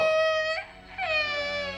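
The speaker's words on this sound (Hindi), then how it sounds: "ये मुन्ना क्यों रो रहा है?" An infant cries in a sustained, wavering wail that breaks off briefly and then resumes, close and fairly loud with no talk over it.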